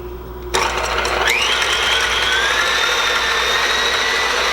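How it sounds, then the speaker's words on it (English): A KitchenAid stand mixer whips cream on its way to becoming butter, starting abruptly with a steady, loud mechanical whir and a high whine that climbs and holds, alone and close. "So why not use my KitchenAid?"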